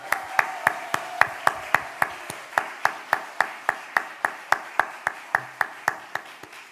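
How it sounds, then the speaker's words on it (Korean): Steady rhythmic clapping in a church service, a regular beat of sharp claps at a brisk tempo carrying through the whole stretch with no voices over it. "박수!"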